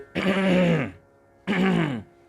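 A voice imitates two deliberate coughs, each a drawn-out throaty hack, separated by a short pause, close and loud.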